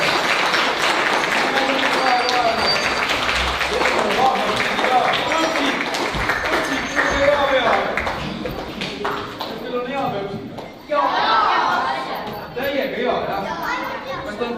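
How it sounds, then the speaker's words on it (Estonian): An audience claps at a primary-grade school Christmas party at Tamsalu School, a dense patter of many hands that thins toward the end as chatter and voices take over. "Aplaus, tublidele täitele!"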